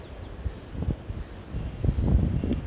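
Strong gusting wind in a snowstorm in southern Sweden buffets the microphone with low, rumbling surges that build and grow louder toward the end.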